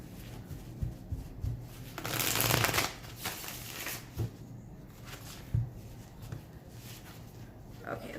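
A deck of tarot cards is shuffled in soft papery bursts, with a longer riffling flurry in the middle, under quiet background speech.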